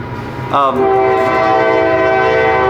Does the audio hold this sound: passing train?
yes